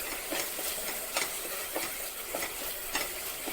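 Tomatoes sauté in a pan for a parippu thakkali curry, a soft continuous sizzle broken by light scraping stirs that come every half second or so, fairly quiet and with no talking.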